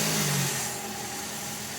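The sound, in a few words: Toyota Vios car engine starting and idling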